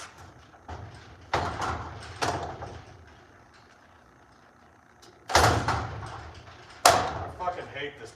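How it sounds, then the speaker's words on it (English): A worn garage door is worked open or shut, giving a series of loud rattling bangs and mechanical clatters spaced several seconds apart, with quieter rumbling in between. "I want this door replaced with a real garage door."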